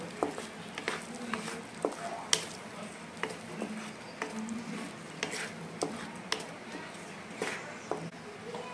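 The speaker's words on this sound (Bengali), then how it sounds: "এখন চিনি আর লবণটাকে ভালো করে মিক্স করে নেব" Sugar and salt being stirred into restaurant-style palak paneer in a pan, steady scraping strokes with light clinks and a soft sizzle, close by, with occasional quiet speech in the background.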